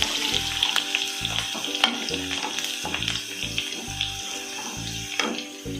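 Chopped garlic sautéing in oil in a pan while making a white mango and carrot pickle, a continuous crackling sizzle with scattered pops, close and fairly loud, under a faint low musical background.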